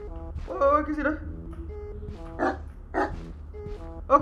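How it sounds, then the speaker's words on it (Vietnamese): Dog barks from the horror video game Something In The Well, a few short yelping calls spread across the stretch amid game sounds, with a voice speaking partway through. "Ơ con chó của mình đấy."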